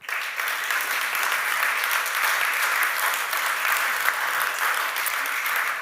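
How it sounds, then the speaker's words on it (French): At an award ceremony for communication prizes, the audience gives the jury a sustained round of applause, a loud, even wall of many hands clapping that holds steady for several seconds. "Je pense qu'on peut les applaudir à nouveau."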